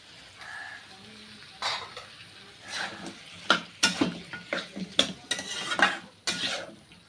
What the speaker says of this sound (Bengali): জল দিয়ে আবার নাড়াচাড়া করে ভালো করে কষে